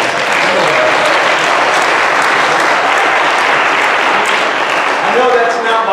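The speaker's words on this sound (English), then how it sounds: "that's not why you're here tonight for the applause" Sustained applause from a worship conference audience fills the hall, steady and dense for the whole stretch, with faint voices mixed into the crowd.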